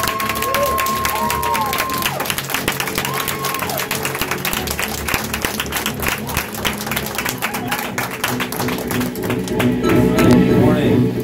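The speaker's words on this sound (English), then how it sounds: "Give a huge round of applause for her." An audience at a Saturday sales training session breaks into loud, dense applause with some cheering for a national sales director. The clapping holds steady throughout, and a voice comes in near the end.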